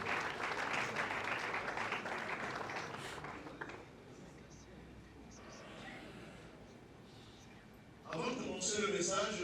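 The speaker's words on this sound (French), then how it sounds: "Est-ce qu'on peut acclamer très fort aussi?" A congregation at a funeral vigil claps loudly, the applause strong at first, then fading to a quieter murmur before a fresh burst of clapping returns near the end.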